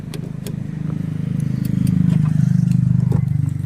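A car engine, started by a new driver on her first day in her own car, settles into a steady, close idling rumble. It swells slightly and holds firm throughout.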